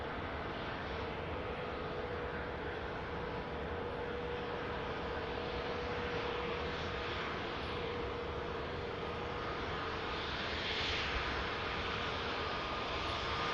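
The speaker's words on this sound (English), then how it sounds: "Lovely A320 Neo arriving in." An Airbus A320neo airliner arriving at Manchester Airport, its steady broadband engine roar sustained throughout at moderate distance, swelling slightly near the end with no talk over it.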